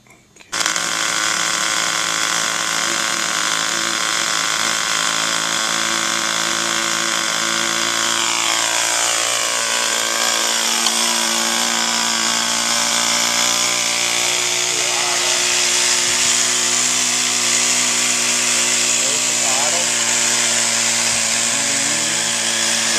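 A model X-Wing Interceptor's small engine running on a ground test, a loud, continuous high-pitched whine with layered tones that sweep and waver as the revs shift, steady throughout.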